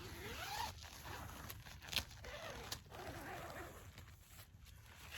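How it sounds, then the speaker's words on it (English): The door zipper on a Big Agnes Fly Creek UL2 bikepacking tent is pulled open in a long, scratchy run, close up, with a few louder tugs and snags along the way. "entrance right here with the zipper"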